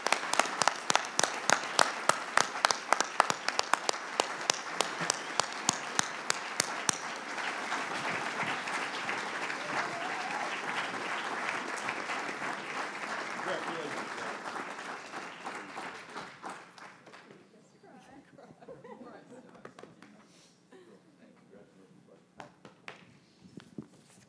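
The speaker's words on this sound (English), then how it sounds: "Let's give a big round of applause." A conference audience at the NOFA-NY 2019 Winter Conference plenary claps for Farmers of the Year award winners. Loud, rhythmic claps swell into sustained applause, then thin out to a few scattered claps and shuffling.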